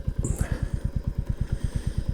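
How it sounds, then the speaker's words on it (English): A tractor chugs steadily with a slow, even run of loud, low engine thumps close by, with no talking. "So let's let this tractor go past."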